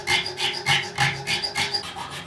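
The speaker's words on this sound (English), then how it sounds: "get filing on the new nut" A file rasps back and forth across a new nut blank for a Precision Bass guitar, in repeated close, loud strokes of about half a second each with no talk.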